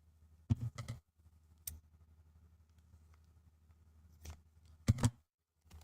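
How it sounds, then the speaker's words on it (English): Household scissors snip fly tying material in a few quick, close cuts, short sharp clicks in pairs separated by quiet gaps, with no talking. "Using our household scissors so we don't dull our fly tying scissors"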